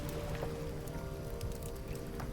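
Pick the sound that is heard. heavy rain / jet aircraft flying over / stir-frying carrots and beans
heavy rain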